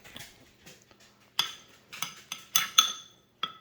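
Cheesy eggs and grits stirred with a utensil in a bowl for a microwave meal, giving a few scattered clinks and scrapes against the dish, close and fairly quiet with short pauses between strokes.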